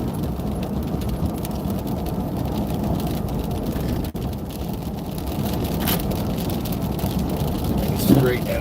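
Mix of rain and wet snow striking a moving car on a drive in Oak Glen, a constant patter and hiss over low road rumble, with one brief dip midway and a faint knock near the end.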